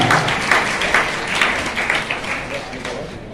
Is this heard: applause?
yes